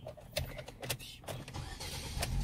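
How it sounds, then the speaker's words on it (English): A 2018 Ford Escort cranks with the key, a few short bursts of starter and engine noise in a quick uneven rhythm, close by and moderately loud, with no talk. "Now start the car with the keys."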